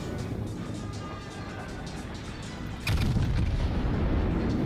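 Heavy boom of a salvo from the Musashi battleship's 18-inch naval guns in a video game, a sharp loud onset partway through, then sustained rumbling roar over steady background noise.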